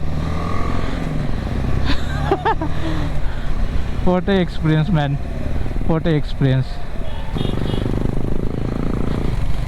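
A motorcycle rides through Bandipur Tiger Reserve on the Mysore to Ooty route, its engine a steady close drone throughout, while someone talks excitedly over it.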